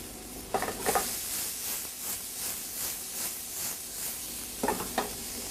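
Onions, garlic and ginger sizzle in a hot pan for vegetable samosas, a steady frying hiss broken by a few louder stirring scrapes near the start and end, close and with no talk.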